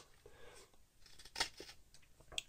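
A knife shaving thin curls from a wooden dowel, a few faint, close scraping strokes with soft crisp rasps, one sharper stroke in the middle and another at the end.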